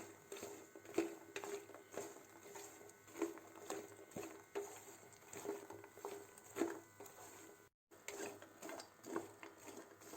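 Fox nuts (makhana) are stirred and roasted in a pan, giving soft repeated scraping and rattling strokes in a steady rhythm, fairly faint and close, with no talking.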